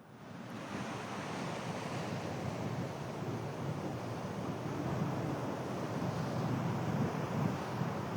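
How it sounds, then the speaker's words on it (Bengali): Strong, gusting storm wind roars over crashing surf by the sea after a night of heavy rain, a constant buffeting rumble with no voices. "ঝড়ের যে দমকা হাওয়া, সেই হাওয়া এখনো পর্যন্ত চলছে"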